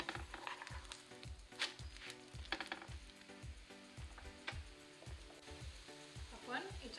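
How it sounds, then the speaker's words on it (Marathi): A paneer moonglet, a moong batter pancake, roasting crisp in a pan over high heat, giving a soft continuous sizzle under a regular rhythmic knocking and scraping, faint and close. "गॅस मोठा करून छान असा हा खरपूस भाजून घ्यायचा आहे"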